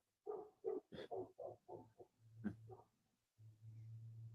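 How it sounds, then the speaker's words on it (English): A dog barks and yelps in a quick run of sharp, separate calls, then a low steady hum takes over; the barking is faint and distant. "Oh, I hear a dog."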